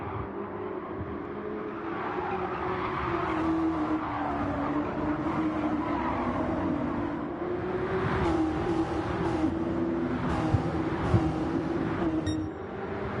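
Small RC NASCAR model race cars run laps on the MRC High Speed Ring in reverse, their electric motors keeping up a continuous high whine with no talk over it.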